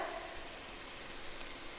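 Red chili flakes sizzle in hot olive oil beside a pan of pasta, a faint, steady crackling fry with no voices.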